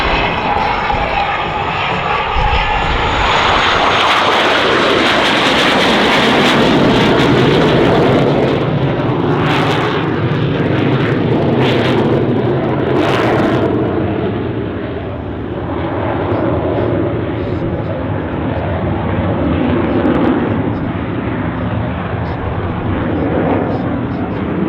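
An English Electric Canberra jet flies past at the Australian International Airshow, its loud, broad engine roar holding steady for the whole stretch, with a commentator talking over it.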